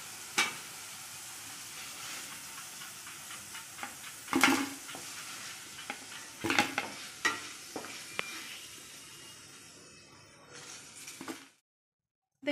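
Potatoes frying in oil for an Odia Johnny aloo dish, a continuous sizzle punctuated by scraping stirs and clinks of a utensil against the pan, fading to silence at the end.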